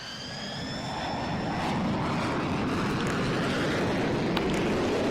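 The engine of a small plane in the Roblox flight game PTFS gives a steady, broadband droning roar that swells slightly at the start and then holds level, with a faint high whine fading early on.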